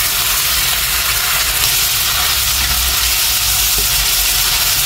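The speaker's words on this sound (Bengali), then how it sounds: "হয়ে গেছে পেঁয়াজ ভাজা, এবার শিম বাটাটা ঢেলে দিতে হবে এর মধ্যে" Onions frying in a pan as bean paste is poured in, giving a steady, loud, even sizzle and hiss throughout with no talking.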